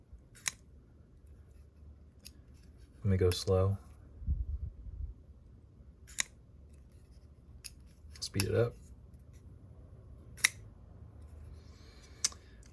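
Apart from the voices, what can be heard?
CRKT Q frame lock knife opening, IKBS ball bearings dragging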